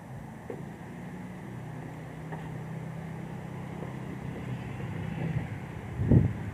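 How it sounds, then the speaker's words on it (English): Wind buffets a camera's internal mic outdoors in freezing weather, a steady low rumble that swells toward the end with a brief gust. "Wind is blowing."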